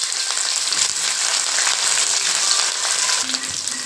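Sliced onions and curry leaves fry in hot oil for a Tamil sambar with brinjal, drumstick and raw mango, giving a steady, dense sizzle that stays close and continuous throughout.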